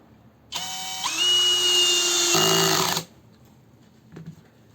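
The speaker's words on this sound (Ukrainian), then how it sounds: "Зараз пробуємо ось цей більший саморіз, дамо нехай на трійку" A Ronix 8900K brushless impact drill drives a large self-tapping screw with the clutch set low, giving one steady, close motor whine of about two and a half seconds that rises in pitch, then stops, with no talk.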